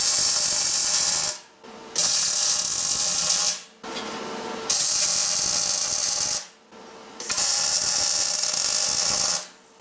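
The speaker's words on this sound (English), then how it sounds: "So now I'll weld the nuts on the inside," Welding nuts onto the inside of a steel propane cylinder gives bursts of harsh, sizzling crackle, each about two seconds long, separated by brief pauses across four or five welds, loud and close.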